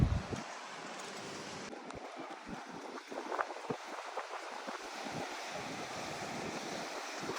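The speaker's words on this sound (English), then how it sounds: "Pretty windy today" Steady wind roars across the microphone over the broad wash of ocean surf on Florida's Atlantic coast, continuous and fairly loud with gusty bursts throughout.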